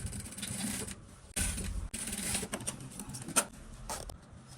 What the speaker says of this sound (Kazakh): Замокты бағаға қоямыз да, замокты тігіп аламыз